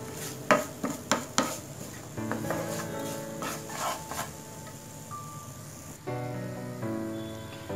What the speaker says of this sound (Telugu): అందుకోసం లో ఫ్లేమ్లోనే పెట్టేసి మనం ఫ్రై చేసుకోవాలి.